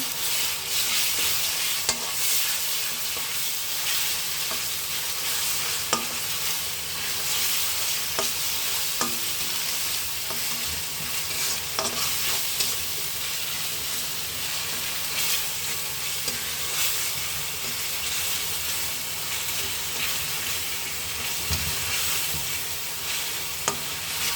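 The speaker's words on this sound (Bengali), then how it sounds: "আদা রসুন মশলাপাতি দিলাম, দিয়ে একটু ভাজি করছি।" Ginger, garlic and spices frying in a pan while being stirred, a loud, continuous sizzle with frequent scraping clicks of the spoon that holds steady for the whole stretch, with no talking.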